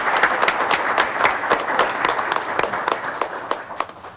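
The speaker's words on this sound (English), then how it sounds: "Another round of applause, please." A room full of people applauds at a township council meeting for the swearing-in of officials. The clapping is steady and dense throughout, with no one speaking over it.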